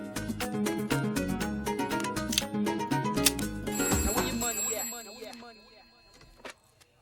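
A telephone rings in an office scene of a Hindi comedy film, under music and busy sound for about five seconds before fading out.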